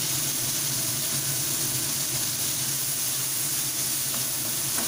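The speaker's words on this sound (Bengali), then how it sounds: "একটু ভাজার জন্য ছড়িয়ে দিলাম" Chopped onions with a little salt sizzle steadily in a pan, an even, close hiss of frying that holds constant throughout with no voices.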